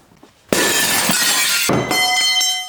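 Glass shatters loudly and close by in a garage while a car hood is open, a sustained crash of breaking pieces followed by a second burst of tinkling shards.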